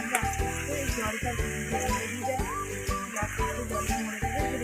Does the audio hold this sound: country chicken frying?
yes